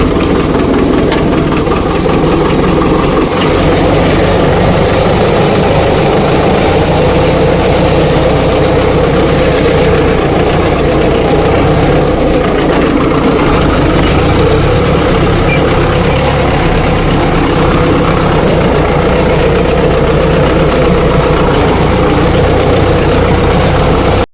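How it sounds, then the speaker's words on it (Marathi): A farm tractor engine idles steadily with a low, continuous rumble for the whole stretch, close by and fairly loud, with no talk over it. "ट्रॅक्टर नेऊन लावूया शेडमध्ये."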